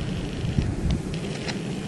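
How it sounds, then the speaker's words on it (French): Steady outdoor wind rushes and buffets the microphone while a primitive fire is being lit, a broad continuous roar with low gusty rumble and no talk. "Le vent me fait concurrence."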